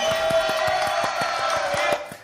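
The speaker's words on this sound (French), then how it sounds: "Pierre qu'on applaudit très très fort" A studio audience claps for Pierre, a brief round of rhythmic applause under a bright sustained jingle tone that ends abruptly, with a light crowd murmur.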